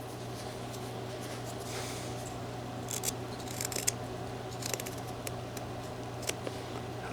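A knife whittling wood for a small carved rhino figure, giving soft scraping cuts against the grain over a steady background hum, with a cluster of crisp close slicing strokes in the middle and a few more later.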